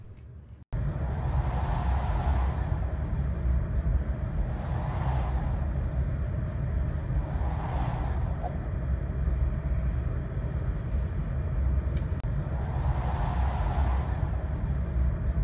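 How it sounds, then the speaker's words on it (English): A PlayStation 3 disc drive with a faulty laser whirs loudly and steadily as the disc spins, with a broad hum and rhythmic swelling surges every couple of seconds as it repeatedly spins up and slows. "This is what a faulty laser sounds like."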